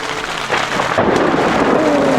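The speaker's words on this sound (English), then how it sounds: "it's pouring down pretty good out there" Heavy rain pours down in a dense, continuous roar, loud and close, with no voices.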